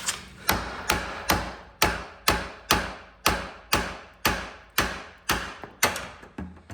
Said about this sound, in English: So you're gonna want to take a hammer.